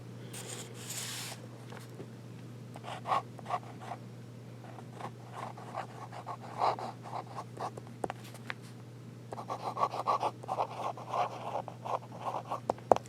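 A fountain pen nib scratching and gliding across paper in short, irregular strokes, quiet and close, with a steady low hum underneath and denser bursts of writing toward the end.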